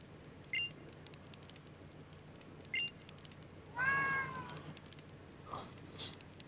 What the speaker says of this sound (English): That's my cat whining.